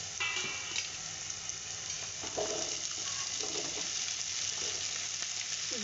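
Potatoes are dropped into a pan of softened, lightly browned onions, with a steady bright sizzle of frying oil and a few soft stirring scrapes and bumps over it.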